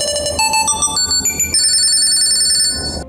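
MSI Summit E14 laptop ringing through the Tile find feature, a bright electronic ringtone of rising stepped tones followed by held chiming notes, loud and close with no talk.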